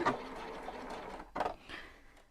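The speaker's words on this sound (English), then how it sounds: "very gently walk this through, do a couple of stitches forward, and then going to reverse it" A sewing machine runs a few stitches forward and then in reverse on a fabric collar, short quiet mechanical bursts with a brief pause between them.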